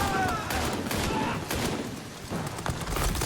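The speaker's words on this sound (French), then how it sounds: "Faut que je leur tire dessus, c'est ça?" Gunfire from shooting enemies in the horror video game Amnesia: The Bunker, a dense burst of shots and booms running throughout, mixed with game noise and someone talking over it.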